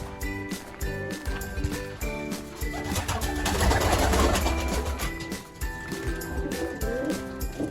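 Pigeons coo repeatedly in soft, throaty calls, several birds close by, with a muffled rumble swelling in the middle.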